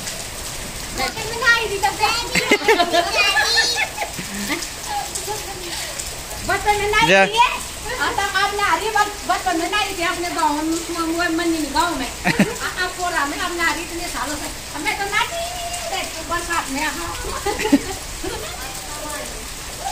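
Steady rain pours down in a continuous hiss while several people talk and call out over it, and children's voices rise and fall in the background.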